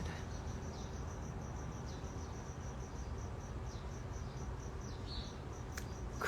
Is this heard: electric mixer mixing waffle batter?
no